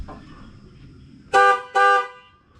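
A new air horn on a Ford Excursion, no longer muffled, gives two loud, close blasts in quick succession, each about half a second long, after a quiet lead-in.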